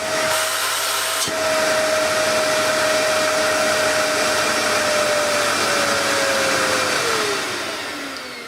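A Hoover Dust Manager cyclonic cylinder vacuum cleaner, 2300 W, switches on and runs steadily at close range with a loud, constant whine and a steady motor drone that slowly sinks in pitch near the end.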